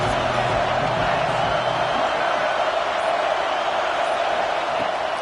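Stadium crowd noise in a college football video game during a third-down red zone play, a steady, dense roar of cheering that stays even and loud throughout, with no one speaking.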